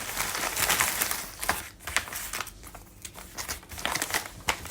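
Plastic-bagged packaging around a box of Fenerbahçe football player cards is pulled open, giving loud, close crinkling and rustling in irregular bursts, with brief sharp tearing sounds between quieter pauses.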